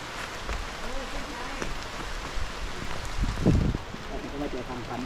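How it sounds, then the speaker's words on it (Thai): Rain patters steadily on a forest trail during a hike to Salad Dai Waterfall in Nakhon Nayok, with light drops and rustling close by and occasional louder thumps. "เฮ้ยฝนมาประทานพรให้แล้ว"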